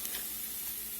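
Butter hitting a hot pan for Cajun steak bites gives a brief, even, bright sizzling hiss that stays steady and fairly close throughout.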